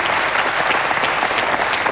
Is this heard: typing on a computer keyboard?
no